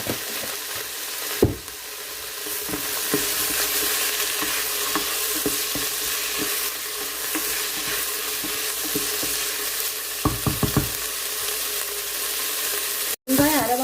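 Onions sauté in a pot with a little salt, giving a continuous bright sizzle with occasional stirring clinks and scrapes, close and fairly loud throughout.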